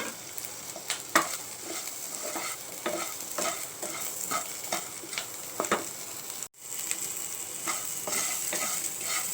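Onions frying for a Kerala onion theeyal sizzle steadily in the pan as tamarind water goes in, with scattered scraping stir strokes and a brief pause near the end, and no talk.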